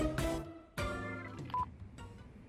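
A mobile phone being dialed in the video game Yakuza 5 gives a quick series of separate keypad tones, several spaced beeps over a couple of seconds, fairly loud and alone.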